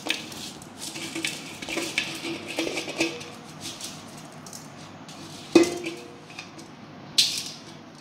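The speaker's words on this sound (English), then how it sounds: "now I add the basmati rice in my cooker" Soaked basmati rice being tipped into a rice cooker, making a soft grainy patter with light metallic clinks and two sharper knocks, close and fairly quiet.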